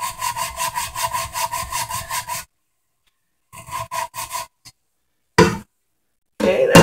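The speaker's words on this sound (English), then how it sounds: "I'm just going to cup it underneath that char pipe and scrub." A pressure smoker pot is scrubbed with steel wool under its char pipe: rapid rhythmic rasping strokes in a long burst, then several short scrubbing bursts separated by silence, loud and close.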